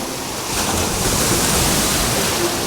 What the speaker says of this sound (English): Even the small waves have power to them.